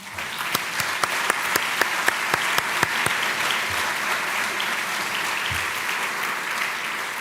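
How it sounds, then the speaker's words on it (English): Conference attendees applaud a panel on cultural heritage and peace, a sustained wash of clapping across the hall with several sharp, close individual claps standing out in the first few seconds. "I believe the panel deserves a round of applause."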